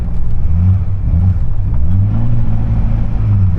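Ferrari F40 engine accelerating on a bumpy runway, close and loud, with rising and falling revs in a couple of throttle pulls and no talk.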